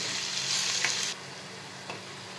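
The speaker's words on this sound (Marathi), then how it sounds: "आता कांदा छानपैकी परतून घेऊयात" Two medium chopped onions sauté in a pan over a low flame, giving a steady close sizzle with a couple of brief stirring scrapes; the sizzle drops to a quieter level partway through.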